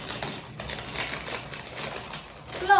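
Gift wrapping paper crinkles and crumples during a Christmas gift unboxing, with irregular rustling bursts at close range and a sharper crackle near the end.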